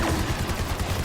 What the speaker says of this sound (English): I'm being bombarded by a bowcaster.